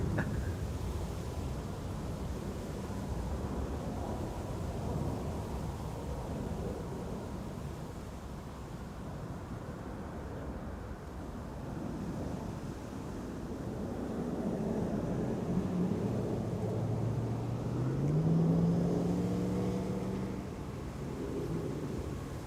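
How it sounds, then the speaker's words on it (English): A KLM airliner takes off from runway 18 Left at Amsterdam Schiphol, bound for Cape Town: a broad, steady jet roar holding at moderate distance, with a rising engine whine emerging near the end. "Big Bird taking off via 18 left."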